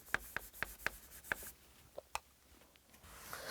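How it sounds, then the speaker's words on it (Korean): Pen strokes and taps on paper, quiet and close, with a quick series of sharp clicks at the start followed by softer scratching and rubbing. "여기다 써볼게요."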